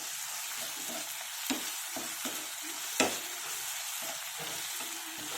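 Ginger garlic paste fries in a pan for a traditional mixed vegetable curry, a soft steady sizzle broken by several sharp scrapes and taps of a spatula as it is stirred.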